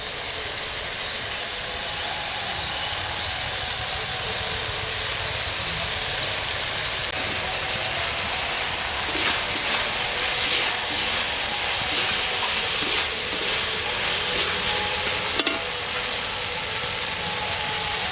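Small fish frying with tomato in spiced oil give off a steady, loud hiss and sizzle that runs the whole time, with brief bursts of spitting and popping in the second half.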